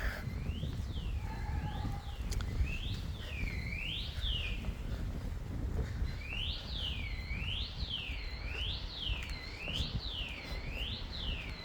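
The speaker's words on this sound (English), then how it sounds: "What's going on with that alarm? So annoying." Car alarm wailing near a residential apartment car park, its rising-falling siren cycling repeatedly in two bursts at moderate distance over steady background hum.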